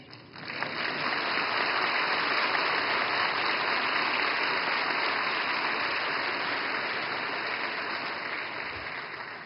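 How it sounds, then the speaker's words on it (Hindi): Sustained audience applause fills a large hall at an opening ceremony in Mumbai, a dense, steady wash of many hands clapping from start to finish without voices rising above it. "और मुझे खुशी है कि सबसे ज्यादा तालियां इस बात पर पड़ी।"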